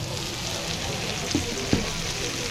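Chicken tikka shashlik sizzles on a hot plate with a steady, close frying hiss throughout, broken by a couple of brief crackles or knocks.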